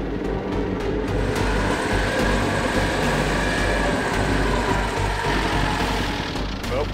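A 4x4 vehicle's engine droning loud and steady as it labours up a steep mountain slope and stalls, with a continuous heavy rumble that barely changes throughout.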